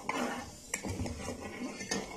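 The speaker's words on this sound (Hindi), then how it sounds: "चीनी को जो है वो चला चला कर मेल्ट होने तक पकाएंगे।" A spoon scrapes and taps around a pot as sugar and water are stirred until melted, quiet rhythmic clinks and strokes close by without speech.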